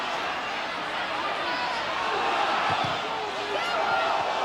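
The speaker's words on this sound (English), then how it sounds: "It's a good noisy home crowd here" A noisy home crowd at a 1997 football match between Reading and Nottingham Forest keeps up a steady, broad roar throughout, with a commentator talking over it.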